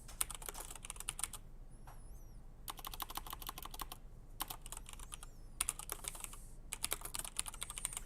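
Bursts of rapid typing on a computer keyboard at an IT service desk, dense key clatter in several runs separated by short quiet pauses, close and fairly soft, with no talking.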